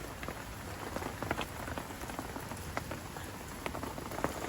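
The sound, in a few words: rain falling on a lake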